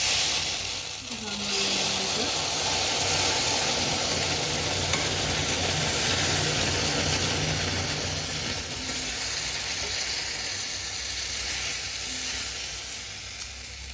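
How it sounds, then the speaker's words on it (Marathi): Steady, loud hiss and sizzle as hot water is slowly poured into a hot kadhai, the bubbling roar continuing for many seconds and gradually easing, with a brief voice near the start. "साईडला जे आपण गरम पाणी केलं ते यामध्ये सावकाश घालते."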